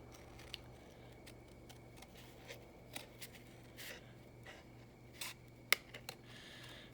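Scissors snipping through collage paper, a series of quiet, irregular crisp cuts and rustles close by over a faint background hum.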